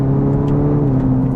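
A 2020 Cadillac CT4-V engine and exhaust hum steadily from inside the car, a smooth sustained drone with a slight rise, no burps or crackles, loud and close with no talking.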